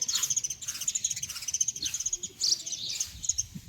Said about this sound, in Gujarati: આ જે પશુ પંખી જે ચકલીઓ જે કિલકિલાટ કરી રહી છે